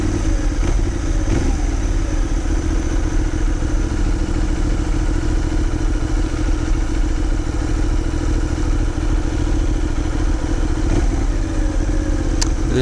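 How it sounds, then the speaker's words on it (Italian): The engine of a Benelli 752S motorcycle runs steadily, a loud, continuous mid-pitched drone with a faint mechanical clatter and no talk over it. "Il motore è comunque dolcissimo"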